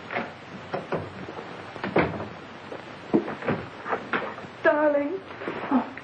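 An indoor door is opened for a visitor with a few knocks and clunks of wood and latch, while voices talk and exclaim over the handling noise.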